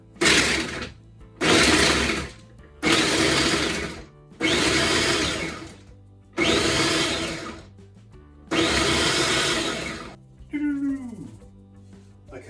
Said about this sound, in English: into a food processor along with some walnuts. And it says to pulse until finely chopped, but do not over process.